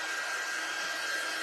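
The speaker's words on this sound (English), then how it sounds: "So let's grab our dryer." Hair dryer blowing a steady, close stream of air across an Easter word block letter craft, a constant broadband whoosh with no pauses and no voices.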